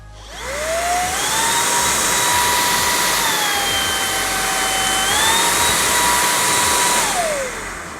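An ORFELD V20 cordless vacuum cleaner whines steadily for about seven seconds, starting and stopping cleanly. Its tone rises and falls as it shifts speed, with no one talking.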